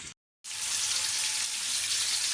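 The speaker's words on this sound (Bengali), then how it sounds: "তো তার জন্য এখানে আমি মাছ ভেজে নিচ্ছি, মাছটা ভুনা করে নেব।" Fish fries in a pan over a gas stove with a loud, steady sizzle. After a brief gap at the start, the hiss carries on evenly, close and unbroken.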